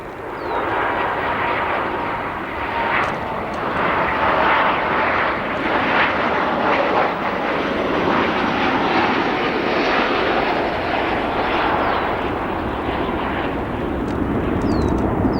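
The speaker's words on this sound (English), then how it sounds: "we're going to come over to our United 737 MAX 9, the largest variant in service of the MAX" United Boeing 737 MAX 9 airliner at O'Hare International Airport, its engines giving a continuous loud roar and whine that holds steady throughout, heard alone from nearby.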